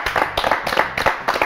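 An audience at a French TV show applauds a guest with a short burst of dense, loud clapping that pulses a few times before ending.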